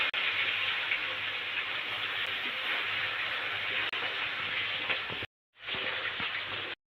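Dense, continuous sizzling of rohu fish pieces frying in oil, a loud steady hiss that briefly cuts out near the end before resuming.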